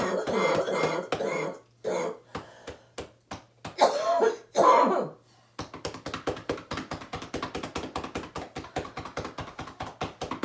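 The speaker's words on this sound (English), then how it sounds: "If she's getting overwhelmed with the coughing, then I'll usually slow down or stop just to let her hack it out" A woman with COVID-19 affected lungs coughs hard in several bursts while her chest is percussed, followed by a long run of rapid, even hand taps, close up.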